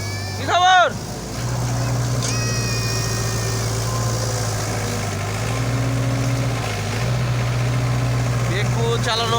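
Excavator engine idling steadily at close range, a continuous low hum that runs the whole time, with a brief burst of voice near the start and faint distant sounds over it.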